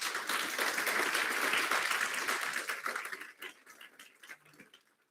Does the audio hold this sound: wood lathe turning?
no